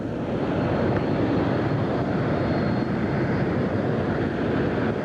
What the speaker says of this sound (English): get the APU up online here